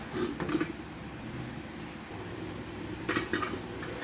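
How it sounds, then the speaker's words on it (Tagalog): Jackfruit and vegetables are stirred in a metal cooking pot, with clinking and scraping of a utensil against the pot in two short bursts, at the start and near the end, over a low background hum. "Haluin natin para pantay yung pagkaluto ng gulay."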